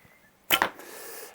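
An arrow is loosed from a Milan horsebow by RD Arqueria Bogenbau in a single sharp snap and whoosh, close and alone, followed by a faint fading hiss.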